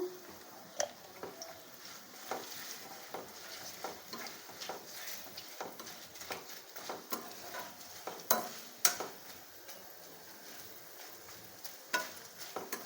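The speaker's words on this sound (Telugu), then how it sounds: "వేగిందండి అయిపోయింది పోపు" Quiet oil sizzling in a pan, punctuated by irregular sharp pops and clicks as spices with asafoetida and turmeric crackle, fairly faint and without speech.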